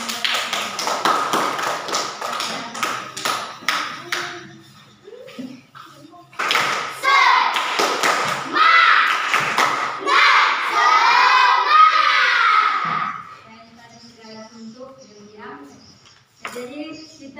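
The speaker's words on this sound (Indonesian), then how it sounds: "Saya berikan tepuk tangan buat kelompok" Classroom applause for a student group: a burst of clapping from many children and hands, loud and sustained for several seconds, rising again with cheering and shouting before fading out, with a teacher talking over parts of it.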